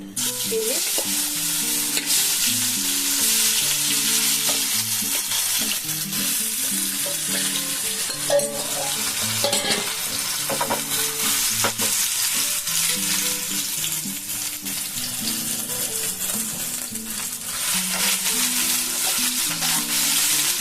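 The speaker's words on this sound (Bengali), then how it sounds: "এইটাকে এবার আমি ভেজে নেব এগুলোকে আমি দিয়ে দেব" Soya chunks fry in a pan for chilli soybean, giving a continuous loud sizzle with frequent stirring and scraping throughout, and a soft tonal background underneath.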